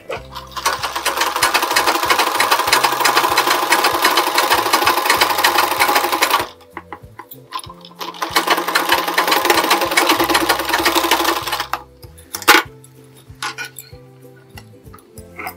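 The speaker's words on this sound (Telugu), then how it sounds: "కరెక్ట్గా పెట్టుకొని ఇలాగ పట్టుకొని స్టిచ్ చేసుకుంటూ రావాలి." A sewing machine stitches a blouse lining in two long loud runs of rapid, steady needle clatter, with a pause between and short stop-start bursts near the end.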